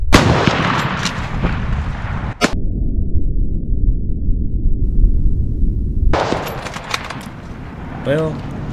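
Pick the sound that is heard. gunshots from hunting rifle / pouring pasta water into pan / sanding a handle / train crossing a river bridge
gunshots from hunting rifle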